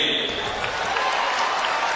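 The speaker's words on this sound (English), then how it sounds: "You can hear the crowd cheering for Lance Wade" A crowd cheers in a steady, continuous roar through the whole moment at a 2006 state high school Division I wrestling championship final, loud and diffuse as if filling an arena.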